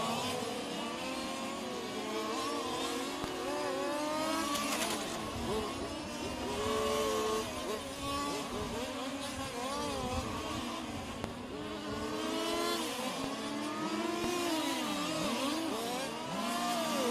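Fifth-scale on-road RC race cars lapping a track at a world championship, with several small engines whining and revving continuously and rising and falling as they pass at moderate distance.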